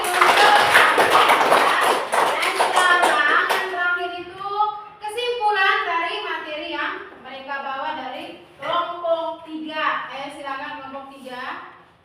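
A group claps together in a classroom, a burst of dense, close applause lasting a few seconds, followed by someone speaking alone.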